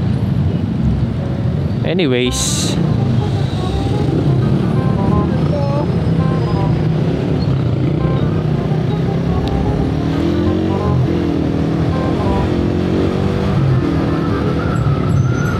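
Heavy, jammed road traffic with cars and buses, a continuous close hum of engines and passing vehicles, while someone talks over it.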